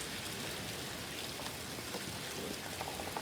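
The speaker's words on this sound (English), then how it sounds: "I'm trying to get raindrops off the freaking screen" Steady, dense patter of rain falling outdoors, a continuous hiss of drops with a few louder taps, fairly faint and with no talking.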